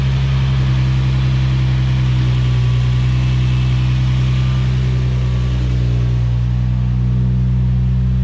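A Nissan 350Z with a Kinetix Velocity intake manifold idling steadily, a loud, close, deep engine drone with a constant low hum and no voices.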